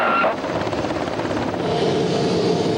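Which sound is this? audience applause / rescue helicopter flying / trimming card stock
rescue helicopter flying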